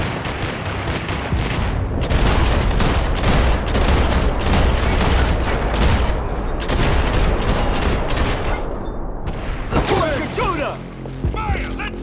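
Loud, dense gunfire from the video game Max Payne 3, rapid volleys and booming shots packed together in a chaotic firefight, with game characters shouting over it.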